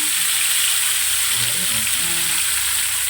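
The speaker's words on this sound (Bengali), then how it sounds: "একটু এদিক ওদিক করে করে ভাজতে হবে" A whole fish fries in hot oil, a loud, dense, continuous sizzle close up, with faint bubbling underneath and no talk.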